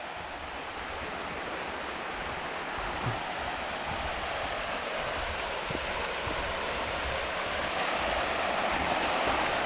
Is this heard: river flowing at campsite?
yes